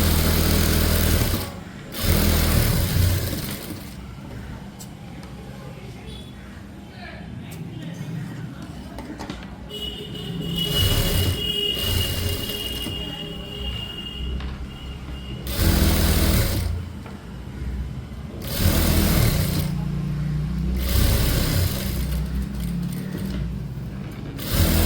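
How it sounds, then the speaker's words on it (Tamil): A sewing machine stitching a blouse runs in long steady bursts with brief pauses between them, close and loud, with someone talking in the gaps. "லைனாக ஃபுல்லாக ஸ்டிச் பண்ணி"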